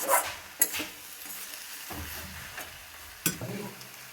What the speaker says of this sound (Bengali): দেখো আবার আমি একটু নাড়াচাড়া করছি